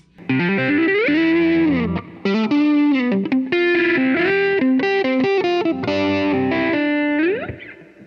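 Sustained electric guitar lead notes through a Donner Triple Threat pedal, with thick overdrive and a shimmering, widened chorus wash, bending and sliding through a melodic phrase, loud and alone.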